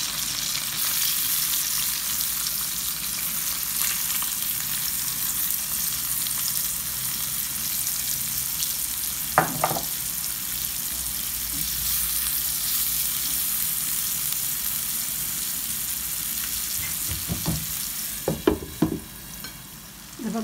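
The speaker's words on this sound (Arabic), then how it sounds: "الحين هي تقلت وغادي ندير البصله" Onion fries in a pan for a Moroccan tajine, giving a steady, close sizzle throughout, punctuated by a few brief stirring scrapes near the middle and end.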